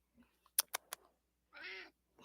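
A cat meowing close by: a drawn-out harmonic meow near the end, preceded by a few quick sharp clicks and small sounds, with quiet stretches between.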